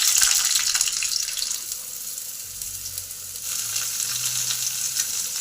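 Potatoes and beans hit hot oil already seasoned with dried chilli and cumin, giving a steady, close sizzle of frying with a light watery hiss throughout and no voices.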